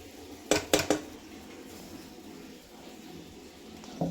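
Poha being served onto plates, with a few quick metallic clinks and scrapes of a serving spoon against dishware near the start and one more at the end, over a quiet kitchen background.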